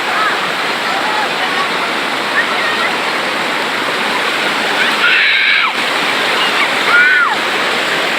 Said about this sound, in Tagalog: Yung agos ng tubig. Lakas!